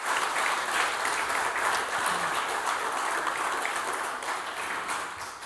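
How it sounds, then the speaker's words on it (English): Audience applause at a World Bee Day awards ceremony for the shortlisted nominees, a dense, even wash of many hands clapping that fills the room and tapers slightly near the end. "I believe an applause is needed for all 3 shortlisted nominees"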